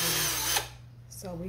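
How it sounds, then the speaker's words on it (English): Power drill pre-drilling small holes in a toilet-shaped mold: a close, loud whir that runs steadily and then cuts off, followed by a brief second burst. "So that we can pre-drill just a couple of little holes."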